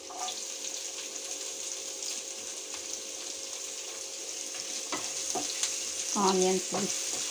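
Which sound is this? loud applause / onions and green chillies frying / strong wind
onions and green chillies frying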